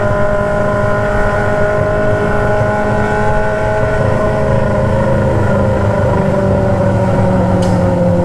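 A Honda Hornet motorcycle with a 3-inch aftermarket straight-pipe exhaust roars loudly and steadily, its harsh engine drone holding close and continuous, with the pitch rising and falling slightly as it revs.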